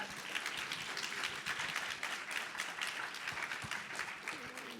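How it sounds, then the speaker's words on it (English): An audience applauds panel guests at a SXSW live session, steady many-handed clapping held at an even level throughout, with faint voices mixed underneath. "Please, round of applause for our guests."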